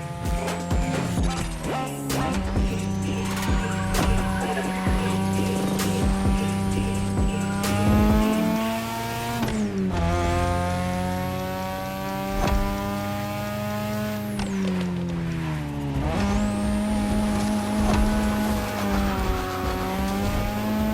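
A 3rd-generation 2002 Mazda RX-7 with a rotary engine races in The Crew Motorfest, its high, buzzing exhaust climbing and dropping through repeated gear shifts, with sharp tire squeals and a constant loud, close engine note throughout.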